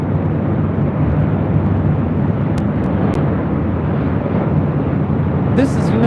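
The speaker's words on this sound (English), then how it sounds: "This is United Airlines 679 coming in from Cleveland on a MAX 8." A United Airlines Boeing 737 MAX 8 arriving from Cleveland lands at LAX, a loud, sustained jet roar with wind buffeting and no break throughout.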